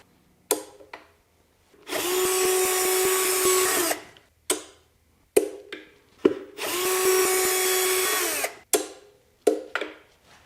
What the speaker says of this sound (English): Remove all the T30 Torx screws holding the knives to the cutter head.